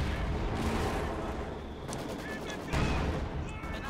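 Company of Heroes 2 battle with a machine gun firing amid dense, continuous gunfire and explosions, a busy, loud wartime din with a heavier thump near the end.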